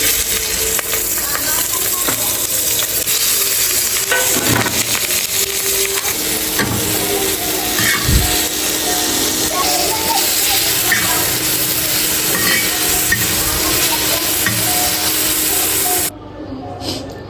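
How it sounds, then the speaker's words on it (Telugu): Green chillies frying in a home kitchen pan, a continuous loud sizzle layered with occasional scraping and clattering as they are stirred, with no talk. "ఫైనల్గా అయితే పచ్చిమిరపకాయలు వేపేసాను"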